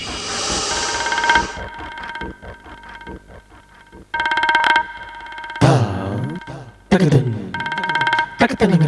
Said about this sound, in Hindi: अब काकर फोन है